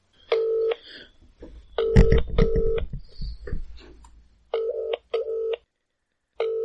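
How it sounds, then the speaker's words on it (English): Distinct electronic keypad tones sound one after another as a number is dialed, with muffled handling noise and quiet gaps between the beeps. "I could just phone her now."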